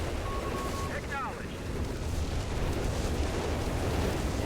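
Zero Barrage off-map artillery explosions in a World War II strategy video game, dense rumbling booms under continuous gameplay noise, with a commentator talking over them.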